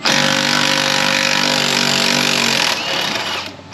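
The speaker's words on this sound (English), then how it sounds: "We're going to pull these 2 lower bolts out, get these guys extracted." Power tool, likely an impact wrench, removing the lower front strut bolts on a car, a loud close whirring buzz for over two seconds that drops off and winds down, no speech.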